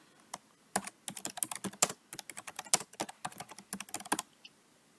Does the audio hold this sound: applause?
no